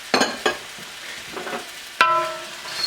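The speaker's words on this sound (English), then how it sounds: "Stir it all up." Beef and sauce stirred together in a frying pan for Beijing beef: a few quick scraping strokes and sizzling bursts, close and clear, with a louder clatter partway through.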